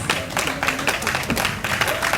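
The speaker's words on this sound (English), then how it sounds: "Let's rise up and give a round of applause." Brief burst of dense clapping from a crowd, steady and fairly loud with a few voices mixed in.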